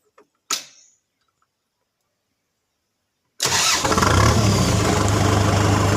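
A Kubota M6040 tractor's engine cranks and catches after a couple of short clicks and a few seconds of quiet, then runs loud and steady at a close distance, with a deep low rumble.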